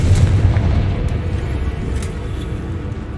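A Confringo fire spell explodes in Hogwarts Legacy, a dense low boom that starts loud and rumbles on as a steady roar across the whole moment, with no voices.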